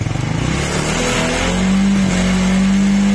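A motorcycle engine revs high with no load during a charging-system check on a fullwave-converted bike running without a battery. The loud, steady engine drone rises into a sustained high-rpm whine and holds there, with no voices.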